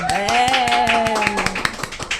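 Rhythmic clapping from an audience at a live podcast taping in Brazil, with steady hand claps under a voice that speaks and calls out over them.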